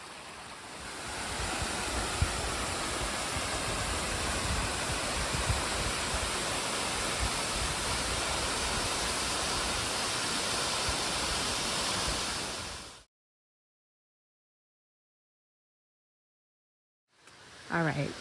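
Waterfall beside the Appalachian Trail, a steady, loud, broadband rush of falling water that holds unbroken for about thirteen seconds, cuts to silence, then briefly returns at the end, with no voices.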